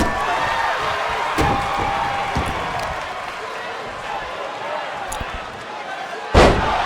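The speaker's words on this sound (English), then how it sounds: "Face slammed into the mat." A wrestler's face is slammed into the mat during a tag team championship wrestling match, landing as a sharp, loud thud near the end over a steady crowd murmur, with a fainter impact earlier.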